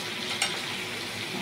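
Chicken curry being stirred in a pan gives a steady, close frying sizzle with one brief spoon scrape near the start, and no talking.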